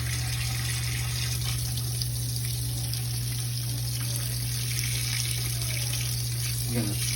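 Hot water runs steadily from a kitchen tap, a continuous hiss of flowing water over a low hum, with a faint clink near the end.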